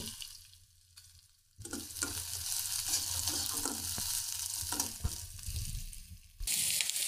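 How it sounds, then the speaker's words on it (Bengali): Garlic and onions frying in hot oil, crackling loudly and steadily after a quiet start, with scrapes of stirring through the middle and a fresh burst of sizzle near the end. "এখন দেবো রসুন, বেশ কয়েকটা বড় বড় 3টে রসুন এবং 2টা পেঁয়াজ। এগুলো আমি লাল করে ভেজে নেব।"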